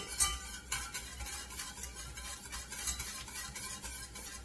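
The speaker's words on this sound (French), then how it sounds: "Là on va bien fouetter, c'est-à-dire on va faire rentrer de l'air afin d'obtenir une sauce un peu homogène." Whisk stirring beurre blanc sauce with shallots and vinegar in a pan, a steady scraping swish under a soft sizzle, close and moderately loud with no talk.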